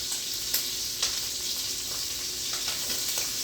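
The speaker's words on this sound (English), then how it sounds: "So right now we're just cooking the shrimp." Shrimp frying in a pan for chicken and shrimp carbonara, giving a steady close sizzle with a few sharper pops and crackles throughout, no voices over it.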